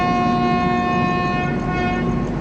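The Netravathi Express running, with a loud steady rumble of rolling wheels and a sustained horn tone sounding through most of the stretch, heard from on board.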